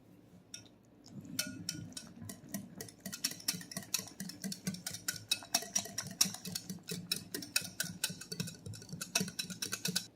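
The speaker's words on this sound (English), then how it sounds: "And whisk it." Cream pie filling with butter whisked by hand in a bowl, a brisk run of rapid, evenly spaced clicking strokes that starts after a quiet moment and continues steadily to the end, close and fairly loud, with no talking.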